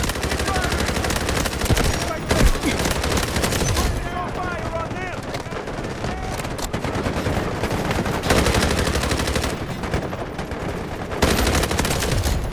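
Loud, nearly continuous automatic gunfire from a shooter video game, with rapid bursts and volleys rattling on without pause for the whole stretch, dense and close.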